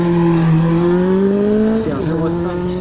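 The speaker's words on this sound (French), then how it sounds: "le 134 c'est Daniel Juppy avec la BMW R100 PHJ 1000 cm3, on est en 1980, acheté en 2008 puis modifié en Café Racer" A 1980 BMW R100 1000 cc motorcycle converted to a café racer runs at a historic hill climb, its engine note rising steadily under acceleration and then shifting, loud and close, with faint voices behind.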